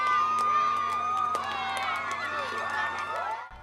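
At an elementary school groundbreaking ceremony, a crowd of students cheers and shouts in a loud, sustained mass of young voices that fades out near the end.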